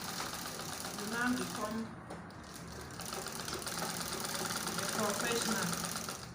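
A pedal-operated sewing machine sews fabric with a continuous rapid mechanical whirring and clatter, close and steady, while a person talks over it.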